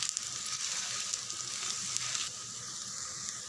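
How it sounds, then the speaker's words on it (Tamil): Wheat dosa sizzling in oil on a pan, a steady bright hiss and crackle that dips a little partway through, close and moderate in level, with no voices. "தோசை எண்ணெய் விட்டுருக்கேன் பாருங்கள்"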